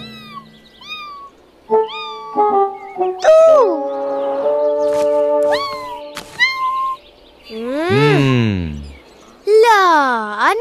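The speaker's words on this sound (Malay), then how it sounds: "Lah, anak kucing je." Kitten meowing repeatedly, high, drawn-out cries close by, some overlapping with excited children's and adults' voices.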